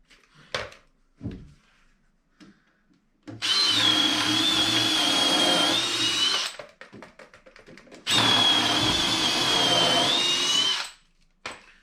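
Two long bursts of a power drill driving screws into a wooden raised garden bed corner, each run steady and loud for about three seconds, separated by brief handling knocks.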